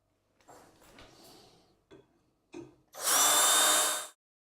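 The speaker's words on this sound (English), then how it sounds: "I need to drill some proper holes that the tapered screws will fit into" A few short mechanical whirs and clicks, then a loud, sustained power drill burst drilling holes in wood for a pedalboard, lasting about a second before stopping abruptly.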